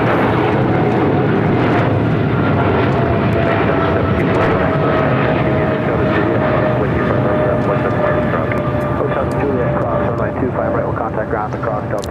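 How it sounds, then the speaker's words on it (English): A DHL Boeing 777 freighter takes off from LAX, its jet engines producing a loud, steady roar with a faint whining tone throughout, while voices talk over it. "This is DHL operated by Coletta, flight 262, taking off to Tokyo Narita on a 777 freighter"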